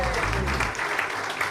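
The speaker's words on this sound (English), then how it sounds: "Let's clap for ourselves." A convention audience of delegates claps together, a dense steady burst of applause filling a large room, with a low murmur of voices underneath.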